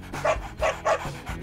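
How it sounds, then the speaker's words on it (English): Excited puppies bark in short, bouncy yaps, three quick barks close by and fairly loud, with no talking over them. "The main characters in her movie are two very excited puppies."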